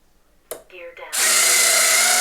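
Retractable landing gear lowering on a 1250mm Dynam Hawker Tempest RC warbird: a few short mechanical whirs, then a loud, steady high-pitched servo-like buzz, close up with a brief voice beforehand.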